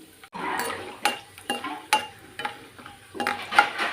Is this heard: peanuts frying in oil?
yes